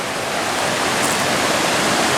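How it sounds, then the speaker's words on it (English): Steady, loud rushing roar of the East Fork Hood River flowing close by, a continuous broadband wash of water with no breaks and no voices. "Dude, we're right next to the East Fork Hood River."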